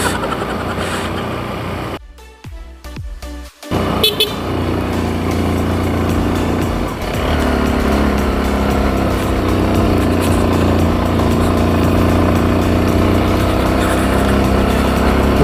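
2019 Honda CRF150L motorcycle engine running off-road, a loud, close, continuous drone with a brief rough dip early on before settling into steady revving.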